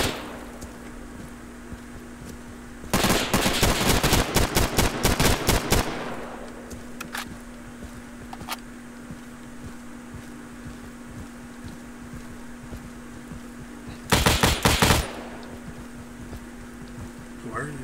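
Rapid bursts of rifle fire crack out in the online shooter Insurgency, one long volley followed later by a shorter burst, over a steady low background hum.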